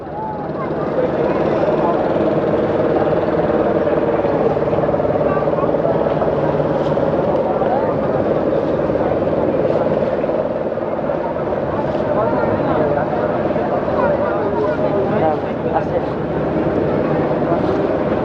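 An engine boat at the Lichubagan ferry ghat in Kaptai drones steadily throughout, a loud continuous motor rumble close by, with a voice talking over it.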